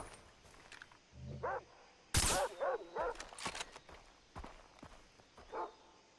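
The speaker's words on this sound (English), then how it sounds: "There's another dog here." A dog in the video game Far Cry 3 barks a few times in short yapping bursts, mixed with footsteps, a loud gunshot-like blast and other game sounds, with no talking.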